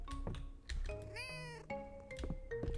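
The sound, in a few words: pet cat meowing in video game Fields of Mistria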